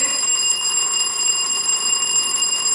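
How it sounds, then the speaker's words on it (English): A contestant's buzzer bell sounds during a school science quiz competition, a loud, steady high electronic ring held continuously without a break. "Who rang the bell?"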